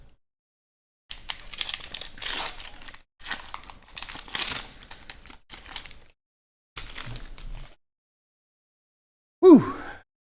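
The foil wrapper of a 2015 Core Set Magic booster pack crinkles and crackles up close in several bursts separated by short pauses, followed by a brief breathy vocal sound at the end.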